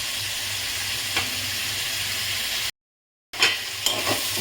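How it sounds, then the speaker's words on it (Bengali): Spice paste for an ilish fish head curry sizzles and hisses steadily in a pan, broken by a short silent gap, with occasional soft scraping knocks as it is stirred. "মশলাটাকে আমি ভালো করে আগে কষিয়ে নেব।"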